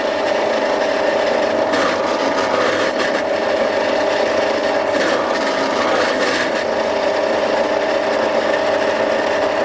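A drill grinds steadily through a knife handle scale, a constant close whirring with faint scraping bursts over the top, running unbroken and without speech.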